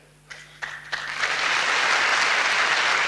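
At a company success day event in Mohali, a few scattered claps quickly swell into sustained applause from a large audience, filling the hall at a steady level.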